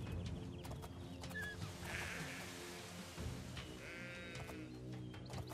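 Sheep bleating in the video game Oblivion, a few brief bleats at moderate distance over a busy bed of game ambience and music.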